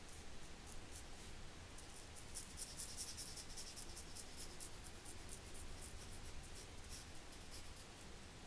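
A colouring pen or pencil fills in a t-shirt drawing on a handmade birth card, a faint steady scratchy scribbling with quick rhythmic strokes, close and quiet with no talking.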